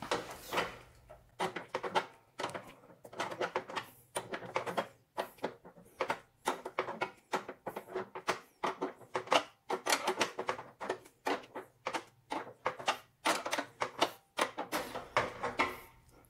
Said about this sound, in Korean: 스패너를 가지고 최대한 조일 수 있는 부분까지 조여줍니다.